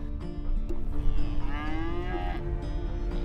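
Cattle on a ranch in open country near Hennifer, Utah, with one drawn-out, rising moo in the middle over a steady rural background hum.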